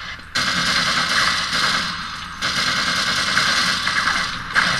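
Rapid gunfire in the game Half-Life: Uplink: dense, sustained bursts of shots mixed with mechanical clatter, loud and continuous over several seconds with a brief gap midway.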